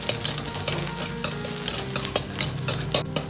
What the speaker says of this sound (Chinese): 葱蒜煸至微黄，香味才浓郁。